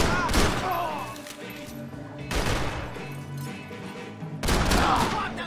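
Gunfire from the video game Max Payne 3 comes as three loud, dense bursts of shots with booming impacts, separated by brief quieter stretches of game ambience.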